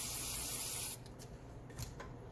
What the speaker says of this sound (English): I'm gonna take my white, shake it, pre-spray it.